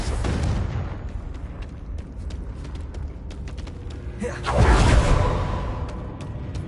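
A Confringo spell blast in Hogwarts Legacy bursts out midway as a loud, swelling boom over a busy backdrop of game effects and rumbling low noise.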